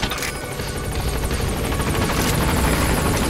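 A helicopter in the Metal Gear video game arrives for extraction, its rotor thumping steadily and loudly throughout with a dense, rumbling wash and no voices.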